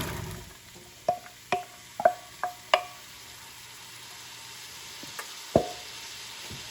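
Chopped onions, two large ones, go into a pan of melted fat for a chicken and wild rice soup, giving a few sharp clatters and stirring knocks over a soft, steady sizzle.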